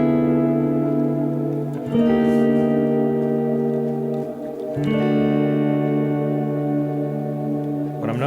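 Guitar played through a Strymon Big Sky MX reverb pedal on the Hall setting: sustained chords ring out with a long, washy tail, a second strum near the midpoint blooming into the lingering reverb.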